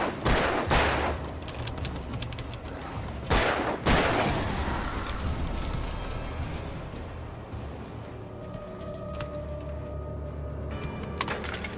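Gunshots in the video game Alan Wake: a few loud shots within the first four seconds, then a fading rumble and tense ambient game sound with no further shots.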